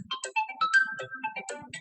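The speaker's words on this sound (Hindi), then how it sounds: "ये किसका फोन आ गया, लोन का फोन है" An incoming call sets off a mobile phone ringtone, a bright, clear run of melodic electronic tones playing alone and close, with no talking over it.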